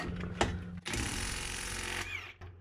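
A Metabo HPT Hikoki WR36DB 36V multi-volt cordless half-inch impact wrench hammers loudly at close range, a sustained rapid rattling burst of about a second as it breaks a bolt on a junk motor, bracketed by brief mechanical clicks.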